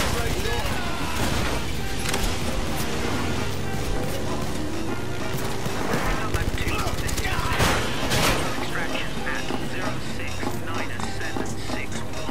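Gunshots in the video game Blood and Truth fire in dense, loud volleys over a busy, constant game soundscape, with a voice talking in places.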